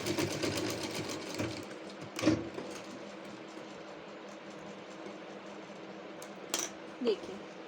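Sewing machine stitching a salwar waistband in a two-meter fabric, a close mechanical whir that rises and fades, with a few sharp knocks and clicks between runs.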